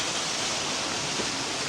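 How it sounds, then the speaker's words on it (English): Water trickles and pours from rocks at a palm oasis in the Anza Borrego desert, a soft, steady watery hiss heard alone at low level. "It kind of looks like there's just water like pouring out of the rocks right here."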